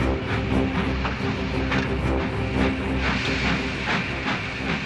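A steam train chuffs and hisses on icy rails as it gathers speed, a loud, dense, continuous roar with rhythmic clatter running throughout and no voices.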